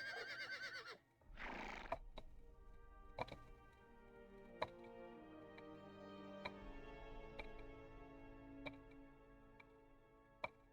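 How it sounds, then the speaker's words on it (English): A copper horse in the Ultima Online game lets out a short whinny near the start, followed by a soft game music bed with occasional bright ticking chimes. "Get a nice copper horse."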